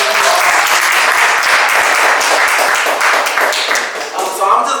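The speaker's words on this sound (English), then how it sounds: "Yes, clap for everyone." Audience claps and applauds steadily at a Black Excellence celebration event, the dense, continuous applause filling the room at full strength for several seconds before easing slightly near the end.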